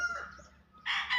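A gamefowl rooster crows briefly at close range, a short burst that rises at the end over quiet farmyard background.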